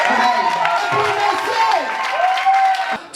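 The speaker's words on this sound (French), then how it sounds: "On peut applaudir aussi pour elle." Audience at a cooking competition cheering and clapping for a contestant, a lively mix of applause, shouts and high-pitched whoops carried steadily and close before tailing off at the end.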